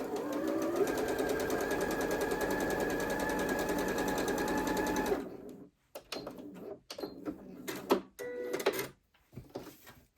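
A sewing machine stitches a quilt block in one steady, continuous whir for about five seconds, then stops, leaving scattered clicks and handling noises as the fabric is shifted.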